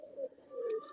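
Pigeons coo on a rooftop in two low, soft swells, close by and alone, with faint higher chirps near the end.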